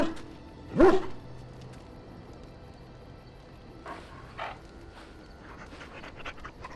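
A dog in the Dragon Age: Origins video game gives one loud bark near the start, then soft panting and a few quieter yips and whimpers follow against a low game ambience.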